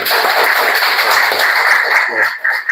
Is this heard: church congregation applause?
yes